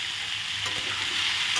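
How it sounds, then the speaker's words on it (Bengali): Papaya and mixed vegetables fry with green chilies and salt in a pan, making a dense, continuous hiss of sizzling that swells slightly as they are stirred. "লবণ দিয়ে ভালো করে নাড়াচাড়া করে আমি সবজি আরও কষিয়ে নেব"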